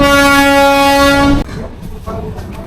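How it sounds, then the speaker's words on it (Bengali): A train sounds a loud, sustained horn blast for more than a second while arriving at Daulatdia railway station, then rumbles nearby with mechanical noise. "এই যে আমার পিছনে একটা ট্রেন আছে, ট্রেন আসছে।"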